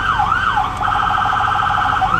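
Close, loud 2003 Ford E-450 ambulance siren sweeping up and down twice, then switching to a fast, rapid warbling yelp that pulses steadily.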